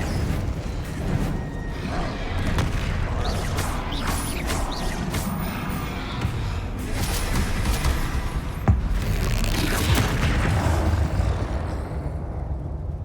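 Incendio and Confringo spell blasts from the video game Hogwarts Legacy: loud, dense bursts of fiery crackling and crashing impacts that roll on continuously, with sharper hits around the middle and a tail that fades at the end.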